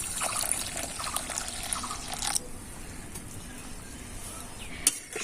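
Water splashes steadily for a couple of seconds as it is poured onto sugar for semolina pitha dough, close by, then stops, leaving faint room noise and a small knock.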